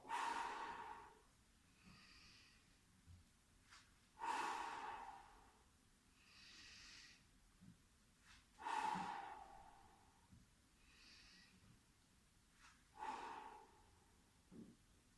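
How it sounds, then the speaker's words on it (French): Slow, deliberate breaths during a Pilates exercise, each long airy exhale rising and fading in a steady rhythm about every four to five seconds, close and fairly quiet with no talking. "et j'expire en montant"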